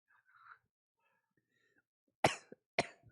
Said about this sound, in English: I'm just gonna sit here and we can listen to you cough